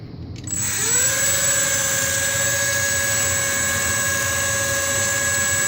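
An E-flite UMX Aero Commander RC plane motor spins up quickly from idle into a steady, loud, high-pitched electric whine that holds constant at full throttle, with no voices.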